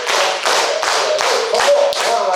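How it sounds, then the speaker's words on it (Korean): A class at a theological university claps hands together in a brisk, steady rhythm. Many hands strike at once, repeating loud, evenly spaced beats. "자, 그 다음 박수 칩니다."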